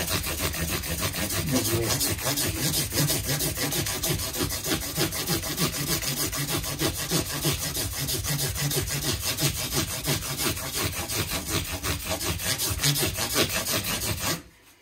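Steady rhythmic rubbing of 1000-grit abrasive across the metal frets of a Fender Mexican-made Stratocaster, close and continuous back-and-forth strokes for about fourteen seconds before stopping abruptly.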